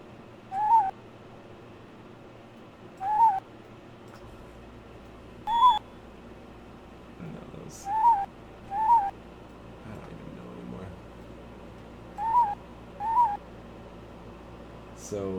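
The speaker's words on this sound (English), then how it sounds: "Let's listen to this stupid bird then." Hooting owl-like bird calls from the video game The Witness repeat at uneven intervals, about eight short clear hoots spread over a faint steady background hum.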